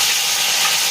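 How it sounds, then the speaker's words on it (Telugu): Mustard seeds spluttering in hot oil for a radish chutney tempering, a dense, steady crackling sizzle that holds close and even for the whole moment with no voices. "చూడండి, ఆవాలు వేసుకున్నాము. ఆవాల సౌండ్ వస్తుంది కదా."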